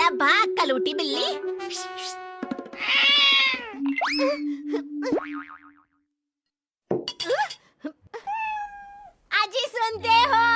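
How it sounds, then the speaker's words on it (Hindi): A cat meows repeatedly amid cartoonish boing effects and a voice, the calls rising and falling in short bursts with a brief silent gap before more meows and chatter. "अरे भाग कलूटी बिल्ली।"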